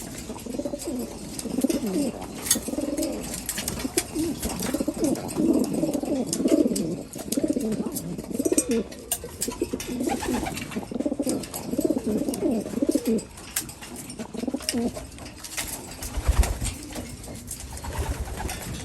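Racing pigeons coo continuously in a loft before a 350 km race, their low rolling coos overlapping nearby with a few faint chirps and flutters.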